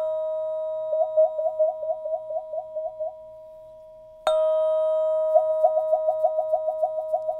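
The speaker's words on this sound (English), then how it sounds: "Now, if I put my hand over the hole, I can change the sound." A struck vibratone rings with a sustained pure tone while a hand moves over its sound hole, making a rapid, regular wobbling warble. A fresh mallet strike midway restarts the loud ringing, and the warble returns.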